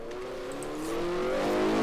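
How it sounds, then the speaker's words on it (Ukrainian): A car engine hums steadily in the video game A Dusty Trip, its pitch rising gradually as the vehicle speeds up, loud and close with no talking. "Ні, тільки не ця машина бісяча машина, вона прям жорстко їде і потім на дорозі."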